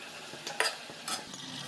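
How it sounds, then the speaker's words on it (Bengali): Spices and chicken are stirred together in a pot for a curry, soft scraping strokes with a faint sizzle beneath, two brighter scrapes standing out in a short, quiet stretch. "মশলা মাংস একসঙ্গে মিশিয়ে নিলাম।"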